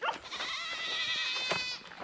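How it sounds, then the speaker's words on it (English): Goats grazing in a field on a homestead bleat loudly and nearby, with one long, wavering call and shorter cries. "I hear you, goats."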